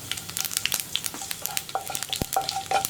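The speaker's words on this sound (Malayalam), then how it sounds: "നമ്മുടെ കടുക് പൊട്ടിക്കൊണ്ടിരിക്കുന്നുണ്ട്" Mustard seeds crackle and pop in hot oil, a rapid scatter of sharp little bursts over a soft sizzle, close by and without voices.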